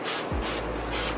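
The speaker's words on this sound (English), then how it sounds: "gotta spray the girl's hand" Cooking oil sprayed from a can onto a child's hands in a home kitchen, a close hissing spray in a few bursts.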